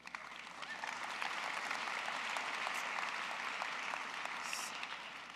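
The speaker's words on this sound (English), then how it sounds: "Give yourself a round of applause" A graduating class at a university commencement applauds, a steady, dense roar of clapping from a large crowd that holds evenly throughout.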